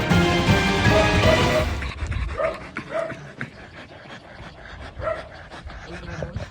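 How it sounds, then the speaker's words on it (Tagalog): Dogs confined in sacks pant heavily and wheeze in short, rapid breaths, with a loud burst of noise at the start and faint whimpers scattered throughout. "hingal na hingal at halatang hirap huminga na ang mga asong ito"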